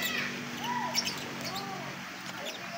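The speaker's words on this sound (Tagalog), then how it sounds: "may ibon" A bird calls outdoors at a farm garden in San Jose del Monte, giving a few short chirps and squawks over background noise.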